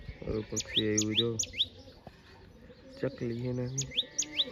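Small birds chirping close by outdoors near scattered grain, bright rising tweets in two bursts under a lower cooing or hum.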